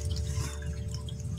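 Clean water trickles and drips onto red spinach seedlings in a seed tray, a soft, steady, close patter over a low background hum, with no talk.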